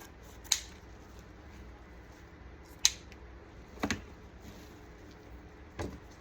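Scissors snip the ribbon tails of a Christmas bow on a bell wreath, giving four sharp, separate cuts spaced a second or two apart against a faint quiet background.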